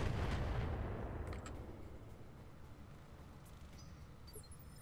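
Mech weapon fire in a video game battle: a loud booming blast opens, followed by a long fading rumble with faint scattered impacts, no voices.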